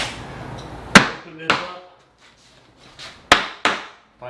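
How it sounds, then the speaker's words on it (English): Hammer pounding on a wooden flat door jamb while a door is hung, with four or five sharp, close knocks at irregular intervals, each ringing briefly. "by pounding on the jamb and putting a little shim in there"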